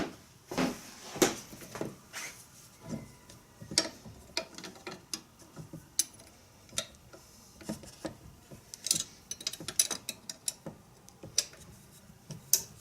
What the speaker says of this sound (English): you always want to focus on wrenching the nut side